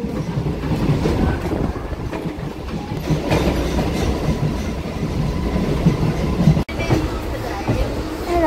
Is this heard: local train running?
yes